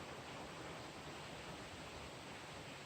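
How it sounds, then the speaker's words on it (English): Water running in a mountain stream by an abandoned mountain town, a faint, even, continuous rushing wash heard from a distance with nothing else over it. "you can hear the water running"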